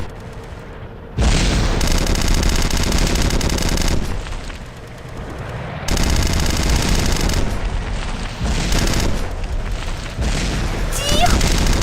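Gunfire in the video game Red Crucible 2: sustained automatic bursts and heavy booming shots, loud and close, continuing in long volleys with brief lulls.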